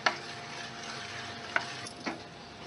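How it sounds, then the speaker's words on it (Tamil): A spoon stirs instant dosa batter in a bowl, giving a wet scraping swirl with two or three sharp clinks against the bowl's side, close and alone with no voices. "நல்லா கட்டி இல்லாம மிக்ஸ் பண்ணிக்கணும்"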